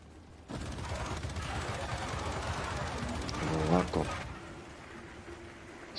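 Heavy mounted cannons firing in Gears 5, a rapid sustained barrage for several seconds before cutting off, loud and close with game effects layered over it.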